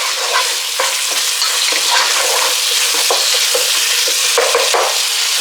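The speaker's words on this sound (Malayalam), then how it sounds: "നല്ലപോലെ മിക്സ് ചെയ്ത് കൊടുക്കാം കേട്ടോ." Dragon chicken sauce with spring onion bubbles and sizzles loudly in a pan while a spoon stirs it with quick, repeated scraping strokes, close and constant throughout.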